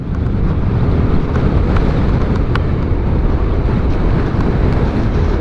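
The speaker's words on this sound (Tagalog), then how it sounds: "Ang lakas ng hangin" Loud, continuous wind buffeting the microphone while riding along a road toward C5 in Metro Manila, a steady low roar with no pauses and no voices.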